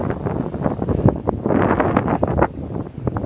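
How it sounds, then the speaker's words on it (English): Strong wind buffets the microphone outdoors at a survival camping spot, making a continuous rough, gusty roar for a few seconds with no voices. "I'm actually bracing myself into the wind"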